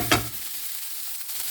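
A drumstick thoran mixture with grated coconut cooks in a pan, with one sharp spoon knock at the start followed by a soft, steady sizzle and faint stirring, no voices.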